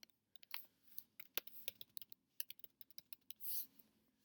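Keys clatter on a computer keyboard in a quick, uneven burst of close, crisp taps, ending with a slightly longer press, all without any voice.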